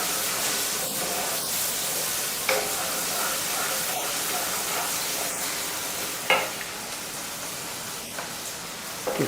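Onions frying in a pan while masala roasts, for an aloo shimla mirch sabzi: a continuous close sizzle with a few sharp stirring scrapes and clinks.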